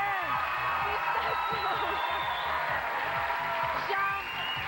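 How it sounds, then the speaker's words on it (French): A TV reality-show studio audience for the Big Brother Québec finale cheers, whoops and applauds loudly and continuously, with shouted voices mixed into the crowd noise. "Applaudissez-le."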